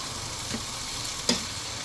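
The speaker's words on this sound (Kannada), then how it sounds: "ಸ್ವಲ್ಪ ಹೊತ್ತು ಹಾಗೇ ಹುರ್ಕೊಂಡಿದ್ದೀನಿ ಎಲ್ಲ ತರಕಾರಿನ ಸೇರಿಸಿ" Mixed chopped vegetables sizzling steadily in a pan, a soft even hiss with a few brief sharper stirring scrapes, close and alone with no voices.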